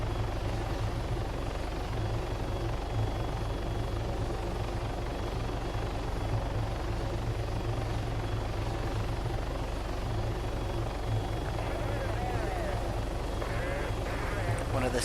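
A helicopter in the video game Arma 3 comes in for a slow landing, its rotor thudding low and continuous with a steady engine drone under it for the whole stretch.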